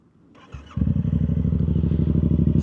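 A Yamaha YZF R7 motorcycle with a Yoshimura full exhaust starts up and settles into a loud, close, lumpy idle with a steady throbbing pulse.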